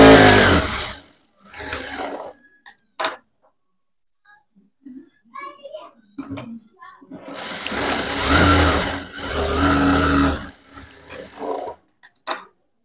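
A sewing machine stitches a blouse in several separate runs, each a dense mechanical whirr lasting about a second or two, with the longest bursts near the end and quiet pauses in between.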